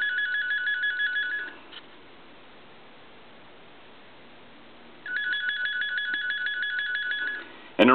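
The electronic ringer of a repaired candlestick telephone trills in two bursts separated by a quiet stretch of hiss, a steady buzzy warble at moderate level, ending in a brief sharp click.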